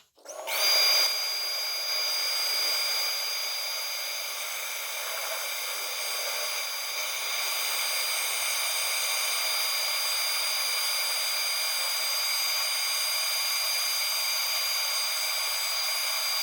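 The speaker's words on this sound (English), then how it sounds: "so I'm going to carry on sanding" Sanding a wooden bowl on a woodturning lathe makes a steady, even whine and hiss that starts abruptly and holds at a constant level throughout, with no talk.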